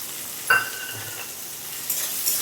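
A fried egg sizzles softly in a pan as chopped green chilies, garlic and ginger go in, with a sharp clink of a utensil near the start and the frying hiss swelling briefly toward the end.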